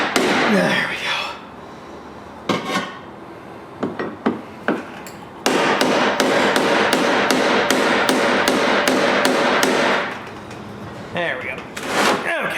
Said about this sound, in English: So the hammer and punch are going to be your friends here